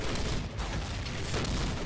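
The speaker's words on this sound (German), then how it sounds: "ich darf mit dem Fettgeschütz halt schießen" Heavy mounted gun firing in Medal of Honor: Pacific Assault, a dense continuous roar of booming gunfire filling the whole stretch with no pauses, loud and close.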